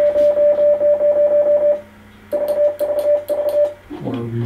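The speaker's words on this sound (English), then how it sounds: "This is keyer determines the speed that you're going to be sending the Morse code signal." A ham radio keyer sends Morse code as a loud, steady tone broken into rapid, evenly paced dots and dashes, pausing briefly and then resuming before giving way to a different sound at the end.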